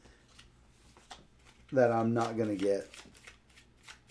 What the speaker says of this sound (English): I'm going to let you shuffle those a little bit.